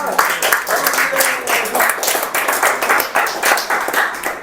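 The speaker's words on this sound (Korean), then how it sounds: "박수를 다시 한번 부탁드리겠습니다." Sustained applause from a banquet crowd at a book launch dinner, a dense, steady wash of many hands clapping that pulses slightly throughout, fairly close and without speech.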